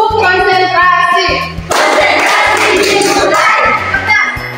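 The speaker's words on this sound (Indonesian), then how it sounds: "Tepuk konsentrasi." A class of children clapping through a concentration clapping game, close and loud, with a rhythmic run of claps giving way to a dense burst of clapping and voices.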